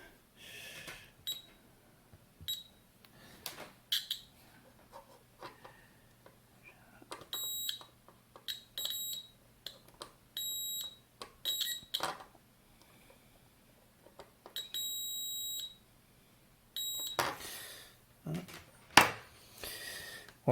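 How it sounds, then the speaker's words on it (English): A multimeter beeps during a continuity check on freshly soldered wires of a clone Wemos D1 mini board, giving short and longer bright tones in irregular bursts over quiet background clicks. "quick continuity check."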